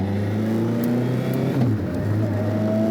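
A Suzuki Hayabusa motorcycle engine fitted in an MK Sport 200 car revs hard toward 11,000 RPM, a loud close howl with rising and falling pitch as it climbs, shifts and climbs again, with no talking.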